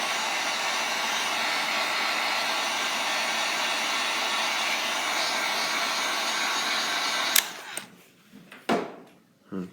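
Heat blower running steadily to dry adhesive on a pump shoe's toe area, a loud, even whoosh that cuts off abruptly near the end, followed by a few handling clicks and knocks.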